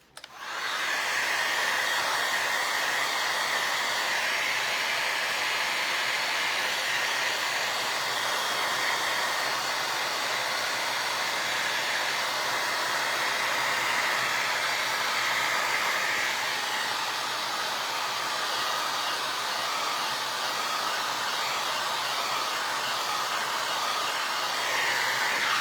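A hair dryer blows steadily and loudly on a vinyl record Christmas tree craft, a continuous broadband whoosh holding nearly unchanged for the whole stretch with no talking.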